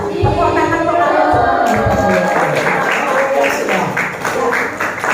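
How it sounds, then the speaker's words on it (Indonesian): Children in a classroom clap their hands together, a dense, steady patter of many small hands that swells after a short pause and continues alongside voices. "Tepuk tangan untuk kalian"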